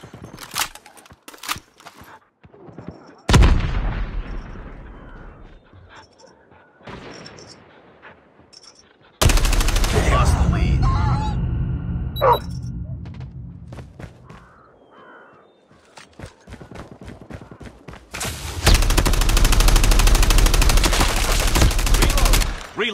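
Gunfire in a first-person shooter video game: sharp single shots and long rattling automatic bursts, loud and near, broken by quieter gaps filled with clicks and game effects.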